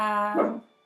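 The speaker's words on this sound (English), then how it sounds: "I apologize for the barking dog." A single short dog bark or yelp, fairly clear and close, fading out quickly.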